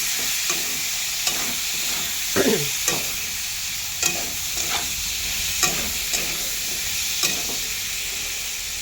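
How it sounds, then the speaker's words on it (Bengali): Potatoes sizzle steadily in hot oil while a utensil scrapes and knocks against the pan every second or so. "আলুগুলোকে ভালো করে ভেজে নেব এখন।"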